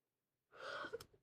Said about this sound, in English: Sorry, that was me yawning.